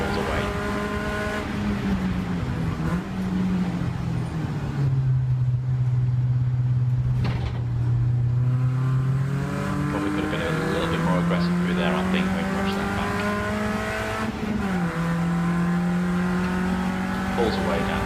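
A race car engine howls steadily at Rockingham during a trackday, holding high revs near the microphone with gear-change dips and a renewed climb in pitch as it accelerates, under a faint voice.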